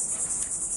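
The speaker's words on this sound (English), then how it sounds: "except for those annoying cicadas" Cicadas buzz in a constant, loud, high shrill drone that fills the whole brief moment, with no voices.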